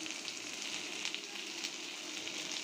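Frozen tomatoes dropped into a pan of golden-brown fried onions for a rohu fish dopiaza, giving a steady, close hiss of sizzling oil that holds evenly throughout.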